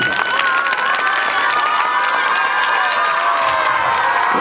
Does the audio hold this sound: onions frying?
no